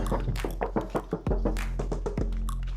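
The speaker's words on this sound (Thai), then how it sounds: "จะเคาะให้ดูนะครับ เสียงบางๆ แบบนี้เลยนะครับ" Knuckles rap on a thin body panel of a 2014 Toyota Corolla Altis 1.8 E TRD, giving a quick series of close, hollow knocks in uneven bursts, with a short pause in the middle.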